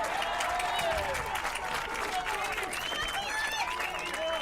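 At a boys high school soccer game, a crowd cheers and applauds steadily throughout, with a commentator's voice speaking over it.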